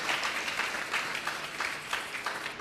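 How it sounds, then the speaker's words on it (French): A church congregation applauding and cheering together, a dense, even wash of clapping with rhythmic swells throughout, steady and fairly loud with no talking over it. "Est-ce que nous pouvons acclamer très fort pour eux?"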